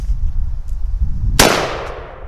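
One sharp, loud blast from a Panzer Arms AR-12 tactical shotgun fired at a head of lettuce, ringing out over steady low outdoor rumble and fading quickly.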